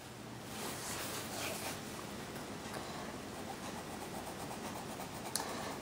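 Colored pencils from an Arteza set shading larger areas on paper in a book, a steady close scratchy rub with soft rhythmic strokes throughout.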